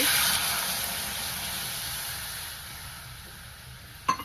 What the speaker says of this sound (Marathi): थोडस पाणी वचते